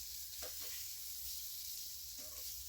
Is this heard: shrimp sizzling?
yes